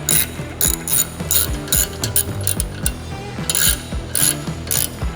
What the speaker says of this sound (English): Using the T45 Torx, get them just snug on this side.